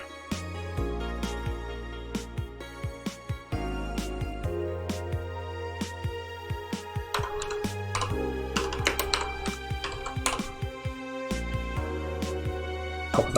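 Keystrokes on a computer keyboard, quick irregular clicks tapping over a steady synth music bed, with no voices.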